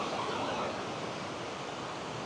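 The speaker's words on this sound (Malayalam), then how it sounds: "ഓരോരുത്തർ തിരമാലകൾ ഇങ്ങനെ ആക്രമിച്ചുകൊണ്ടേയിരിക്കുകയാണ്" Ocean waves at Calicut beach in Kerala, a continuous close surf roar of breaking water washing ashore, steady and loud with no voices over it.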